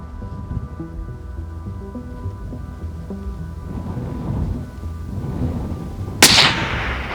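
A single loud, sharp shot from a long-range bolt-action rifle with a 16-inch barrel, fired at an outdoor ranch range, cracking out over a background of wind noise and trailing off in a brief rumble.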